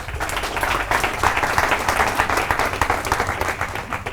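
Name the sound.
audience applause at business training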